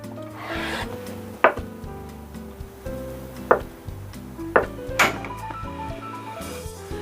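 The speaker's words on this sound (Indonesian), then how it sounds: "Ini saya potong-potong dulu tahunya" Tofu being cut into pieces on a board for a traditional Indonesian sayur lodeh: four or five sharp, isolated knife strikes land a second or so apart over a low steady background hum, with no talk.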